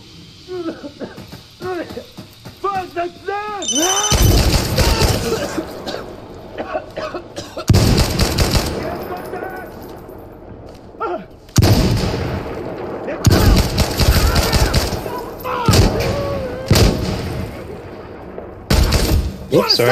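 Gunfire in the tactical shooter Insurgency: loud, sharp bursts of automatic fire in several clusters, separated by quieter stretches where players talk and cough.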